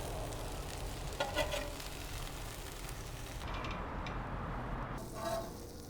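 Pheasant tinga quesatacos sizzle steadily as they toast in a hot pan with the cheese melting, a continuous frying hiss with a few brief louder spatters and faint utensil movement.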